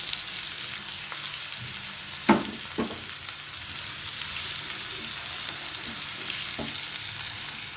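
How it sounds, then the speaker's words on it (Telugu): Curry leaves, onion and green chili go into hot oil in a pan, giving a steady crackling sizzle with a couple of louder pops and stirring scrapes early on. "కరివేపాకు, ఉల్లిపాయ, పచ్చిమిర్చి వేస్తాను."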